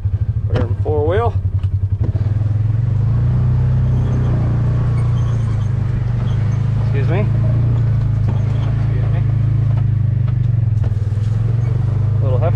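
A four-wheel-drive ranch vehicle runs steadily with a loud, low engine rumble close by, with voices talking over it early on and a few sharp calls later as it keeps moving through the pasture.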